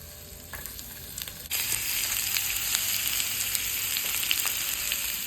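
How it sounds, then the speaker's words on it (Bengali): Sliced onion and potato hit hot olive oil for a Spanish omelette: a quiet pan suddenly bursts into a loud, continuous close sizzle that keeps crackling steadily. "তার মধ্যে আমি পেঁয়াজ আর আলুটা দিয়ে একে ভাজা ভাজা করে দেবো"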